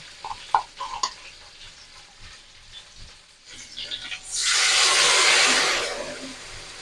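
Tomato and a prepared spice paste hit a hot pan for a vegetarian Kashmiri aloo dum. A few clinks and stirring scrapes come first, then a loud, sustained close sizzle takes over for the last few seconds.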